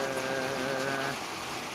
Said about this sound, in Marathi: अतिशय छान असा हा पाऊस आहे बघा